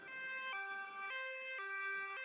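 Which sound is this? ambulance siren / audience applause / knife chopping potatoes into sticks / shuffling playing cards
ambulance siren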